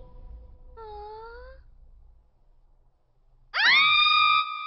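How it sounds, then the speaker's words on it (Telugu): Wailing, screaming voices from a dramatic movie scene: a rising moaning cry, a pause, then a loud sustained high scream that ends the clip. "ఎందుకలా అరుస్తున్నారమ్మా?"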